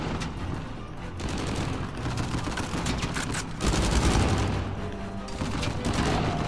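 Continuous dense gunfire from the video game Uncharted 4 rattles on without pause, heavy overlapping bursts and booms filling the scene loudly throughout.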